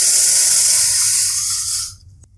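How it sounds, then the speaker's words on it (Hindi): A drink poured through a strainer into a cup, a loud continuous liquid rush and hiss that cuts off abruptly near the end, with no talk. "अब मैं छन्नी की मदद से छानकर इसे"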